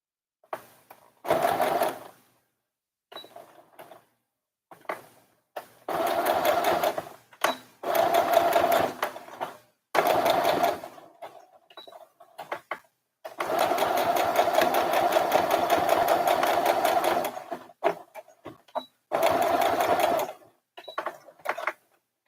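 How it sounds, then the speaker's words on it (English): A sewing machine stitches a little girl's dress in repeated bursts of rapid, rhythmic whirring, some brief and some lasting several seconds, with short quiet pauses between runs. "I put it on my machine and sew it"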